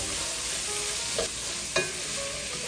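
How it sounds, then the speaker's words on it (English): Manhattan clam chowder base with onions and black pepper being stirred in a pot, a soft background sizzle with two brief scraping clanks of the utensil, no talking. "Season with black pepper. Okay, stir it around."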